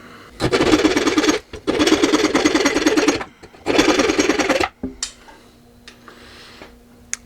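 A budget 13-in-1 multi-tool's short saw blade cuts with fast, rasping back-and-forth strokes in three loud, close bursts separated by brief pauses, then falls quiet with a faint hum and light clicks.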